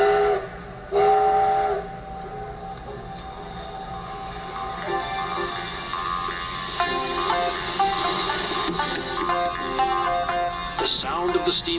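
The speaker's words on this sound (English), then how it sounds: "sound of the steam whistle rebounds off the mountains as engine 7470 returns to the North Conway station" Steam whistle of steam locomotive 7470 near North Conway station, sounding in several long sustained harmonic blasts that echo off surrounding mountains, with quieter hissing and rail rumble between the calls.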